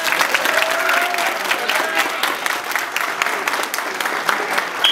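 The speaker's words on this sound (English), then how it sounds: "So clap it up for Traveon." A football signing day audience applauds steadily, a moderate wash of many hands clapping at an even level throughout.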